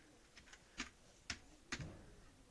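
Quiet computer keyboard typing while a category description is entered, a few soft scattered keystrokes with small gaps between them, faint and close.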